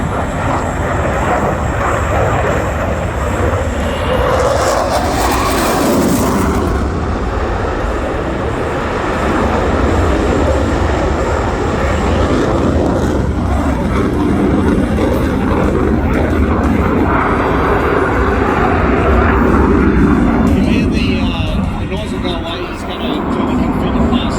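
A Boeing F/A-18 Classic Hornet jet flying a display at an air show, a loud continuous jet roar swelling and shifting as it pulls through a high-G turn, with a commentator talking over it.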